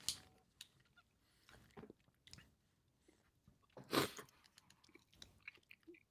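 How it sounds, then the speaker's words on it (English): People chew a Thin Mint flavored Built Bar close to the microphone, with soft wet mouth sounds and scattered crunchy bites, one loud crunch standing out midway, and no talking. "Great audio content hearing Isaac and I chew this Built Bar."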